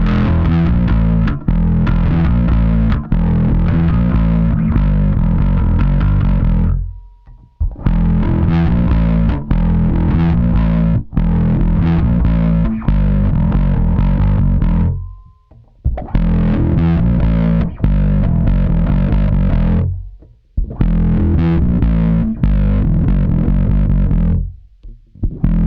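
An Aria Pro II SB-CFB bass guitar plays a heavy distorted riff with a chorus-like effect. It comes in loud, close phrases broken by short pauses, and nobody speaks.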